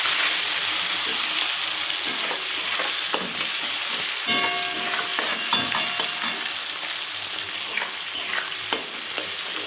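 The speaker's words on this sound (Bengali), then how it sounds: "পেঁয়াজ আর টমেটোটা আমি দিয়ে দিলাম তেলের উপরে। দেওয়ার পরে একটু নেড়ে নিতে হবে।" Onion and tomato fry in oil with a bay leaf while being stirred, a loud, continuous sizzle with crackling spatter and scattered clicks of a utensil against the pan, no talking.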